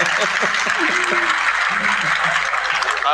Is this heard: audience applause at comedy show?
yes